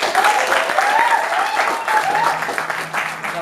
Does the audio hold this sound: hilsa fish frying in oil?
no